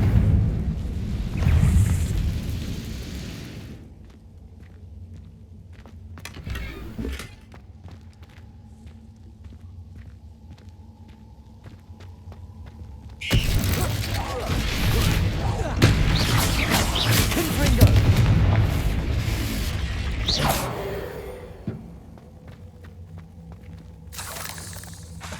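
Confringo blasting spells in Hogwarts Legacy, heavy rumbling explosions in two long bursts with a quieter stretch between, booming and loud, with a shouted voice over the blasts.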